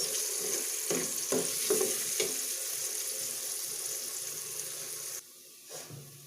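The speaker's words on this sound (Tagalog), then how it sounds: "Luto mo na yung sibuyas guys." Onions and garlic fry in a pan for a vegetable dish, a steady close broadband sizzle with a few louder stirring scrapes early on, dropping to a quieter hiss near the end; no one speaks.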